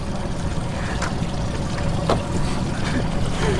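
A sailing boat moving on open water near a bridge, with a steady, full wash of water and wind running throughout at moderate level, faint scattered creaks on top and no talking.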